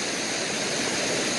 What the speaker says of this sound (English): So, this beautiful waterfall here